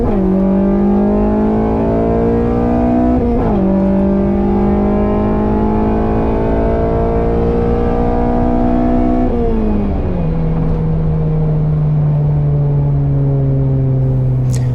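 A K24-powered Honda Civic on new semi-slick tyres roars through a drag racing run, loud and close, the engine climbing through each gear with two sharp shift breaks before settling into a steady high drone.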